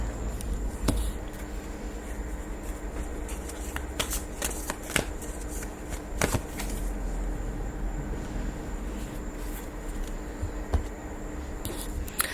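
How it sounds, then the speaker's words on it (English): Affirmation cards shuffled by hand for a card pull, a close, steady papery riffling that runs throughout with sharper slaps and snaps at intervals, alone without talk. "I'm gonna pull an affirmation card for you."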